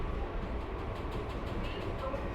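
A passenger train runs slowly, around 30 km per hour, on the line from Shantipur toward Krishnanagar, giving a steady low rumble with faint rolling clatter that stays even throughout.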